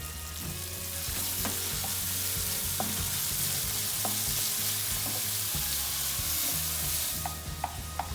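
Sliced onions with salt sauté in a pan for tomato rice, a steady close sizzle broken by repeated scraping stirs of a spoon, with no voices.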